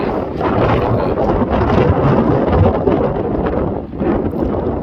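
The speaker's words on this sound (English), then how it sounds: "It's very, very windy." Strong wind on Fuerteventura buffeting the microphone, a loud continuous rumbling roar with gusty fluctuations and no voices.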